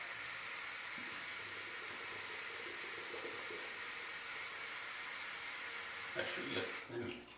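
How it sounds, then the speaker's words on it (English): Water runs steadily from a kitchen tap, a continuous broadband hiss heard close and fairly faint, with a brief splashing change near the end. "pour some water from the tap"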